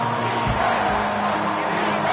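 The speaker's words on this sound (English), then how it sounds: "this crowd is tearing the lid off this place." A stadium crowd in the Madden football video game roars in a steady, loud wash of cheering and shouting on a big third down, continuous and dense throughout.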